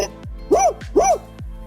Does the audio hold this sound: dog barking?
yes